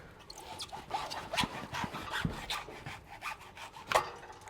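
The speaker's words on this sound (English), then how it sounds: "with the hacksaw I can then get a good grip on it" A hacksaw cuts through a rubber suspension bump stop held in a bench vise while an air spring is being fitted, producing a close series of rough, uneven rasping strokes with a few sharper knocks and no talking.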